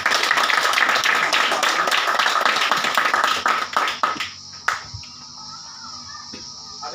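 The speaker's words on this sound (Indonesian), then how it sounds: "mari kita berikan tepuk tangan" Classroom applause after a group presentation, as a small group claps briskly and fairly loudly for about four seconds and then tapers off into scattered last claps and near quiet.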